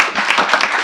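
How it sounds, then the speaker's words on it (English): A very short burst of dense audience applause at an indoor talk event, loud and close, cut off after under a second. "A round of applause for Genie, beating Venus."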